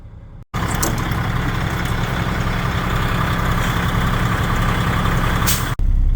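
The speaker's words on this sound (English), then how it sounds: "You got to rebuild the air in the truck because it bleeds down overnight, so the brakes will work." A truck idles at the start of a harvest day, building up air brake pressure after it bled down overnight; the engine drones loud and close, steady and unbroken with no talk.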